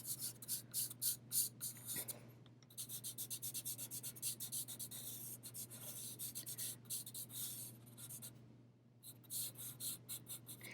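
Charcoal scratching and rubbing across paper in repeated curved strokes to shade a sphere, a close, dry rasping that comes in quick rhythmic bursts with brief pauses between passes.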